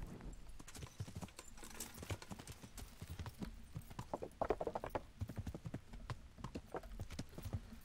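Horse hooves beat a fast, steady gallop across ground in the medieval game Kingdom Come, faint and continuous throughout with no talking over it.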